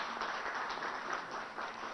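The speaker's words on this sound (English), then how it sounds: "A big round of applause for them." Audience at a CII business meeting in a hotel hall gives a dense, steady round of applause, a continuous wash of many hands clapping at even volume throughout, with no voices.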